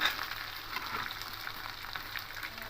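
Chickpeas going into a ginger-garlic spice mixture sautéed in oil for a lentil and banana-stem curry, giving a steady, soft frying sizzle with faint stirring throughout.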